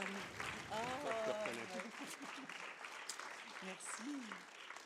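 An audience at a film award event applauds for Yves Dana, with a moderate, steady patter of clapping from a crowd while a few voices speak and exclaim over it.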